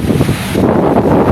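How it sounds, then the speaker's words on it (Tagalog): Strong wind roaring beside big ocean waves, loud, heavy gusts battering the microphone in a brief burst of blustery noise. "Grabe lalaki ang lakas ng hangin."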